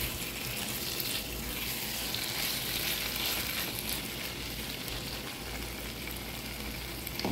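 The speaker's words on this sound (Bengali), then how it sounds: "আমি আরও কিছুক্ষণ ভাজা ভাজা করে নেব।" Taro stems frying with hilsa fish head and tail in a pan, giving a steady, dense hiss of oil that holds at an even level throughout, with no voices.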